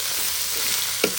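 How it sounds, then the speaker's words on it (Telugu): Ginger, garlic and green chili paste frying in hot oil in a pan, a steady close sizzle with one brief louder spatter near the end, no voices. "ఈ మాత్రం గోల్డెన్ బ్రౌన్ కలర్ వచ్చేంత వరకు బాగా వేయించుకోవాలి. మాత్రం వేగుతున్న దాంట్లో అల్లం, వెల్లుల్లి, పచ్చిమిర్చి దంచుకున్న పేస్ట్ని కూడా, ఫ్రెష్గా దంచుకున్న పేస్ట్ని కూడా ఇందులో కలుపుకోవాలి."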